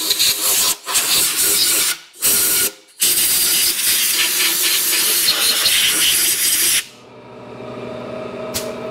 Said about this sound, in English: there goes the compressor.